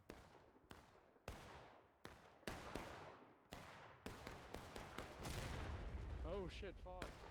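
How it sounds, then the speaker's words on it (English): Friendly artillery fire in a video game, a series of loud booming impacts, about a dozen of them, each with a fading rumble, coming faster toward the end as a voice cries out over the last blasts. "Friendly artillery almost just hit CSA somehow."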